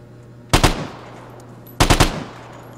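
Gunfire from other players in the video game Vigor, two short bursts of rapid automatic shots about a second apart, loud and sharp over a low steady hum.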